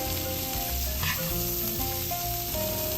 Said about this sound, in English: In the same pan on medium heat, add in the garlic and some butter.